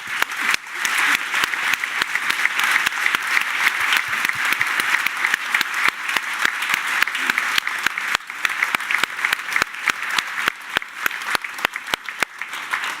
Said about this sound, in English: I would like to ask all of you to give a round of applause to our round table.